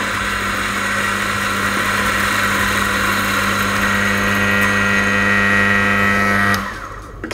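A Eureka Oro Mignon coffee grinder motor runs loud and steady, whirring continuously for several seconds before spinning down abruptly near the end.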